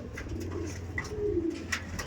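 Tournament-quality racing pigeons kept for sale in Ultadanga give low, soft coos over a steady hum of background noise, with a couple of brief higher chirps standing out.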